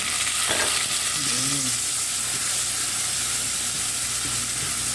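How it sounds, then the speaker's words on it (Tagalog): Jute leaves (saluyot) sautéing in a hot pan with coriander, black pepper and salt: a steady, loud sizzling hiss running throughout, with a few light stirring clatters. "Igigisa natin konti ang saluyot."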